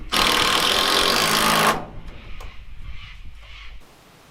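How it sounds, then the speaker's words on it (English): Loud, steady rasping of a power saw cutting timber poles for nearly two seconds at an off-grid bush camp, then it cuts off, leaving quieter workshop clatter and faint background noise. "when I'm sawing up this timber here"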